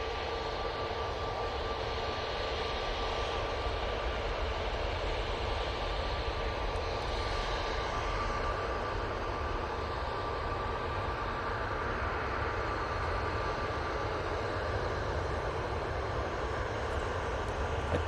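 An Etihad airliner at Manchester Airport gives a steady, broad engine roar that holds unchanged throughout, loud and continuous with a faint tonal whine riding on top.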